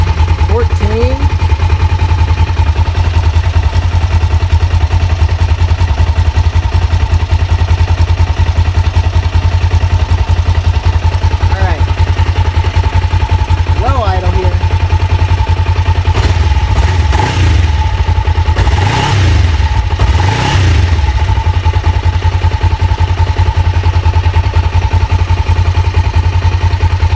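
A motorcycle engine runs steadily throughout while its charging system is tested, idling with the idle raised and a few brief revs near the end, close and loud, with someone talking over it.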